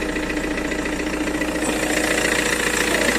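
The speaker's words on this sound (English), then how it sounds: "let me show you the engine noise of this car" A 2012 Tata Safari Dicor diesel SUV engine idling nearby, a loud steady rumble with a rhythmic knocking clatter that holds constant throughout.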